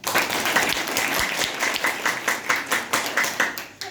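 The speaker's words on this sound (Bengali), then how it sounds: "একটি করতালির মাধ্যমে তাদের সকলকে ধন্যবাদ জানাই" An audience at a school event claps in sustained, fairly close applause that swells and then breaks into looser, tapering bursts toward the end.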